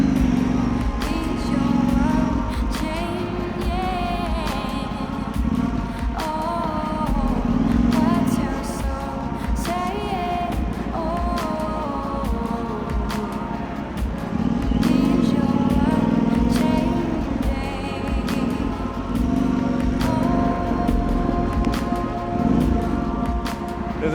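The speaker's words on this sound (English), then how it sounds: "I really like the sound of this exhaust." Exhaust of a Yamaha Tenere 700 motorcycle drones steadily while riding, a continuous low engine note that rises and falls gently with throttle over wind noise, heard from on the bike.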